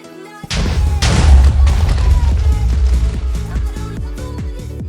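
TNT blasts destroying a small base in the Minecraft video game: a sharp boom, then a dense, loud roar of overlapping explosions, followed by rapid repeated crackling blasts as the blocks break apart, with no talking.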